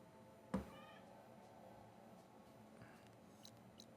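A single close cat meow rings out early, then a faint, softer mew follows a few seconds later in an otherwise quiet room.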